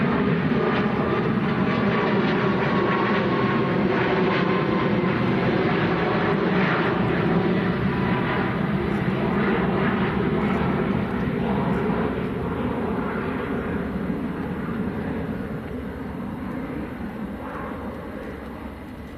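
Boeing 737 MAX airliner bound for Tenerife South at Manchester Airport, a steady, loud engine roar holding for most of the stretch before easing slightly toward the end, with no talk over it.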